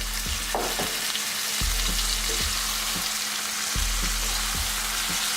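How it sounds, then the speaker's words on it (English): Yogurt-marinated lamb frying in a pan, a loud continuous sizzle broken by regular scraping stirs every second or so, close up and with no talk. "we can add our lamb, which has been marinating in the yogurt"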